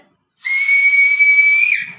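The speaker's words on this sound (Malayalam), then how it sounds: "ആരാണ് വിസിൽ വിളിക്കണേ" One loud, steady, high-pitched whistle blast held for over a second, dipping slightly in pitch just before it stops.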